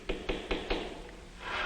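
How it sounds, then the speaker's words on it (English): Four dull, evenly spaced taps of a tool on leather, close and fairly quiet, followed by a soft rustling hiss. "Or the dull tap, tap of tools on leather."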